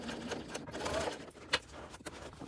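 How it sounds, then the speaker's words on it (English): A sewing machine stitches the boxed corner of a canvas tote bag, a steady close whirring run of needle strokes that briefly pauses and restarts for backstitching, with faint handling noise and no talk. "we are now going to sew this boxed corner closed, back stitching at the beginning and the end"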